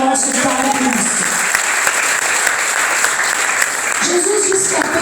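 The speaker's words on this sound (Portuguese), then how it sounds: "Em nome de Jesus, aplauda o nosso Pai Cristo." Loud, sustained applause from a church congregation, steady dense clapping filling the room while a voice speaks and sings over it at the start and end.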